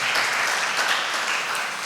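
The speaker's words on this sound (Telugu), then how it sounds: "గట్టిగా చప్పట్లు పడదాం" A church congregation at a youth gathering clapping loudly in steady, dense applause that fills the room without pause.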